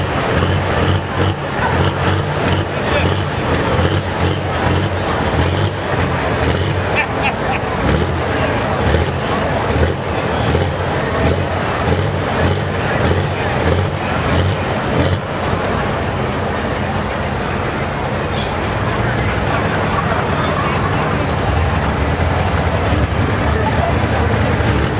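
A pulling tractor named Unforgiven roars at full power during a truck and tractor pull, a loud, continuous engine drone lasting throughout with some rough fluctuation, and a voice is heard talking over it.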